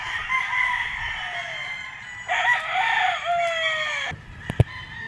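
A white Kelso gamefowl bull stag crows nearby, one long drawn-out call rising in the middle and ending abruptly, followed by a couple of sharp clucks or knocks, with faint farm background.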